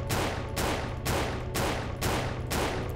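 Video game Paratopic gunfire: six loud, evenly spaced shots roughly every half second, each a broad sharp blast with a short ringing tail over a steady low hum.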